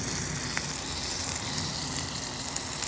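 Onions and peppers sizzle steadily in a hot pan as they go in with birria taco meat, a continuous close frying hiss with faint crackles and no talk.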